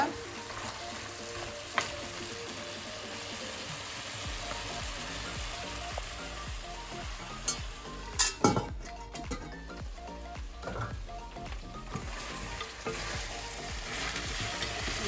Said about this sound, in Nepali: लसुन अदुवा राखेपछि यसरी मजाले यसरी तेल निस्किन्जेलसम्म परी भुट्नुपर्छ।